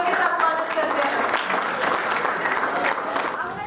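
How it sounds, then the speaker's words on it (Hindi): Audience at a JCI award and oath ceremony applauding a president-elect, dense continuous clapping with crowd noise that stays full throughout and eases slightly at the end. "जोरदार तालियों के साथ स्वागत करते हैं"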